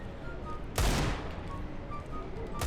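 Two sharp shots in CS:GO, spaced about two seconds apart, loud against a low murmur of game ambience.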